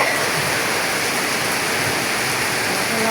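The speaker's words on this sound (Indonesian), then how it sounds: "Lumayan deras ya hujannya ya." Heavy rain pours down steadily outdoors, a dense, even hiss with no breaks and no voices, close and loud throughout.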